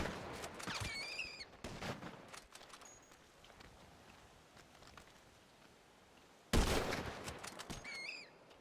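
Gunshots in a GTA roleplay game: a few sharp cracks early on, then a quiet stretch, then one loud sudden shot near the end followed by lingering noise, with no talking.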